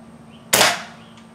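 A single sharp crack of a CO2 airgun fitted with a short 3D-printed muzzle brake, loud and close, with a quick decaying tail over quiet background hum.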